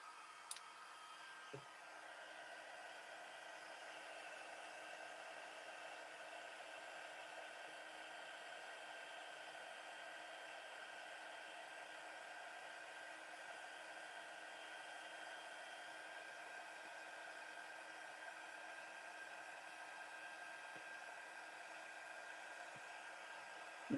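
An embossing heat tool blows a steady, faint, hair-dryer-like whir for a long stretch while heat-setting embossing powder on a Christmas card, with no talking.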